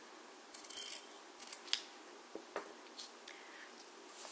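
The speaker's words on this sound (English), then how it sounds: "Let's cut it right there." Scissors cutting fabric elastic for a tutu bracelet, faint close snips in a short irregular series, quiet and alone.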